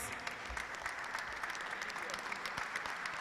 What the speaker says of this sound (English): And also to the Consul General, Will Stevens, a round of applause